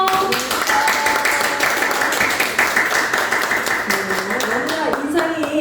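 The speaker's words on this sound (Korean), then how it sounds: "우리 박수로 환영할까요?" Congregation applauding to welcome a newcomer during a Korean church lay Sunday worship service, a steady wash of many hands clapping for several seconds beneath a voice and tonal sounds.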